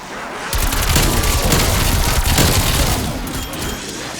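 Sustained AK rifle fire in Call of Duty: Cold War Zombies on the Die Maschine map, a dense, loud burst of rapid gunshots and booming impacts running for several seconds with faint talk underneath.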